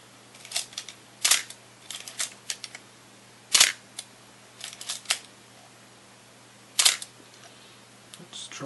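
Olympus OM10 (version II) 35mm film SLR camera firing its shutter repeatedly, sharp close mechanical clicks and clacks in irregular bursts over quiet room hiss.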